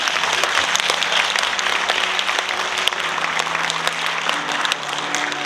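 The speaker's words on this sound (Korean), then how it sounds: "연단으로 여러분 큰 박수로 모시겠습니다." Audience applause at a public lecture hall in Gwangsan, steady and dense clapping from a large crowd filling the room, welcoming a speaker to the podium without pause.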